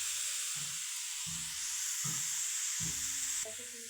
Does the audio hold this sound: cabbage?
yes